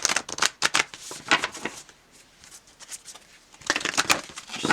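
A deck of Work Your Light Oracle cards is riffled and shuffled by hand in quick bursts of crisp flapping and clicking, near and fairly loud, with a quieter pause midway before the shuffling picks up again.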